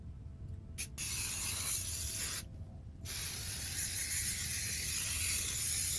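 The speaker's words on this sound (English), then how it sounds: "The paint that I'm using today is charcoal matte spray paint" Charcoal matte spray paint hisses steadily from an aerosol can onto a wooden shadow box, in long continuous bursts broken by two brief pauses, close and fairly loud with no talking.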